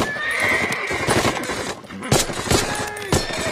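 Horses neigh and whinny shrilly in a Band of Brothers battle scene, mixed with bursts of machine-gun fire and sharp gunshots, and hooves clatter underneath. People talk faintly over the commotion.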